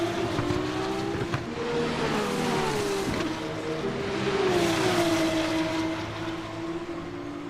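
An F2 race car spinning out at the Miami Grand Prix, engine note wavering, dipping and climbing again as the car slides, loud and sustained, with no talk.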